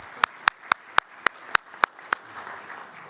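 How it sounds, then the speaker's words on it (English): Audience applause during an opening ceremony at the MNGA Summer 2025 event: eight crisp, evenly spaced claps ring out alone about four times a second, then stop, leaving a low murmur of room noise. "Give him a round of applause."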